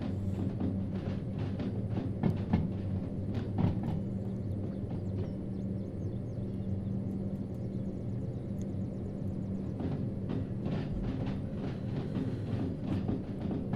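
A locomotive rolls along rails in the Derail Valley railway simulator, a steady loud rumble with engine hum and scattered clicks of wheels over track joints, continuous and without talk.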